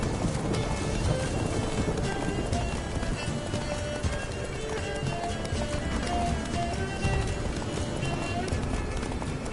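Horse galloping in The Witcher 3 video game, a steady clip-clop of hooves running continuously at close range beneath game music and ambience.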